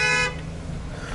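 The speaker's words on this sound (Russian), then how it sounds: "Что сигналит?" A car horn honks in New York City street traffic, one sustained harmonic blast that cuts off after a moment and leaves the low rumble of road noise.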